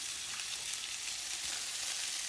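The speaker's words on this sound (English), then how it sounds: "And while that bacon is sizzling up" Bacon sizzles in a frying pan for a burger breakfast, a steady, fairly loud crackling hiss with no voices over it.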